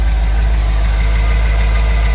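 An HSV Clubsport 5L engine idles with an exhaust leak, giving a loud, steady, close rumble with a heavy low throb and no voices.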